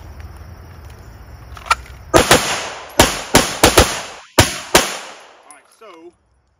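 Eight gunshots fired at a target, a few seconds of quiet and then sharp loud cracks in an uneven sequence of close pairs and single shots, each with a short echoing tail, ending in outdoor quiet.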